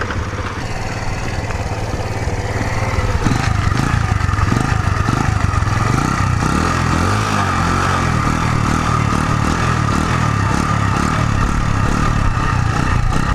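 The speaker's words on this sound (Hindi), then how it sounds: "मैं इसको किक स्टार्ट करने जा रहा हूँ।" A Bajaj Boxer motorcycle's single-cylinder engine catches after a kick start and settles into a loud, steady, slightly clattering idle close by, running continuously throughout with no pauses.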